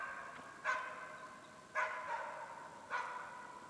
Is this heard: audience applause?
no